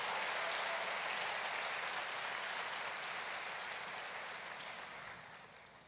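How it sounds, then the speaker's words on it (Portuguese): A church congregation applauds during a worship service, a broad, steady wash of clapping that fades slightly toward the end, with no talk over it. "Ele merece um aplauso, Ele merece um aplauso."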